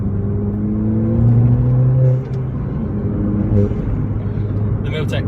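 A Ford Fiesta ST with a Milltek turbo-back exhaust drones with a deep, steady note that rises in a short rev, then settles back, heard from close by.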